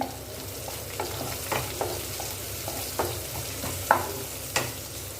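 Onions sautéing in a pan for a thick salna to serve with parotta, a soft steady sizzle broken by light scrapes and taps of a spoon stirring at irregular moments, with no talking.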